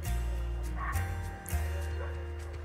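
A dog barks a few times, muffled, over a constant low mechanical hum.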